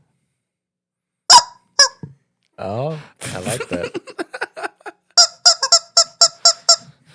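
A person squeezes air through cupped hands to imitate a chicken, a series of sharp squeaky clucks in uneven bursts, with a short spoken reaction in between.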